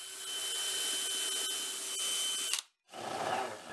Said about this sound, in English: Then I can get those drilled and countersunk from the bottom